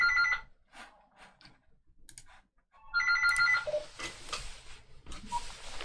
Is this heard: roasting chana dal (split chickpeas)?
no